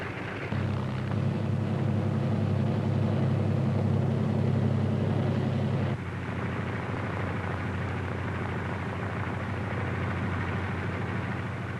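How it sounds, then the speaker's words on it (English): Piston engines of World War II C-47 transport aircraft rumble as the planes move into position on the runway for takeoff, a steady loud drone that shifts slightly in tone partway through. "other C-47s move into position for their takeoff at the head of the runway"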